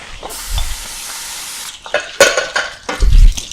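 Clams and mixed seafood go into a pot for Korean spicy seafood noodle soup, producing a sizzling hiss with scraping and clattering against the metal, plus a few heavier thuds and bursts of sound.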